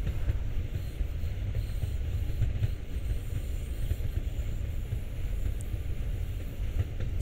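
A German passenger train in the Train Sim World game rolls slowly toward its terminal station, with a steady low rumble of wheels and running gear and faint high squeals.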